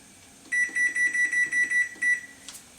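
An oven timer is set while baking a chocolate eggnog cake: a rapid series of about eight bright, evenly spaced electronic beeps, close and clear, followed by a short pause and one more beep.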